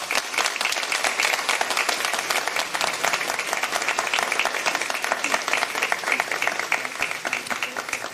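Congregation at a bishop's ordination Mass gives mothers a warm round of applause, dense and sustained clapping throughout, loud and steady with no break.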